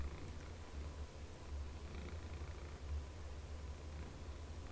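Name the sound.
pet cat Ellie purring loudly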